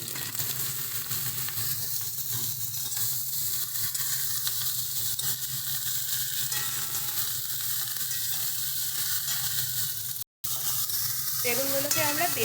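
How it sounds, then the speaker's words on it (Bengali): Eggplant frying in a pan for a prawn and eggplant dish, a steady close sizzle and hiss with occasional stirring scrapes running throughout. "যতক্ষণে বেগুনগুলো একটু হালকা মতো নরম হচ্ছে ততক্ষণ এটাকে একটু ভেজে দিচ্ছি।"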